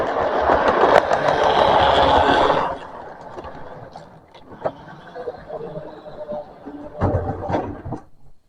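A model railway train runs along its track, a rough-running locomotive unit giving a loud mechanical rumble for the first few seconds, then quieter rolling with scattered clicks and knocks, swelling again near the end.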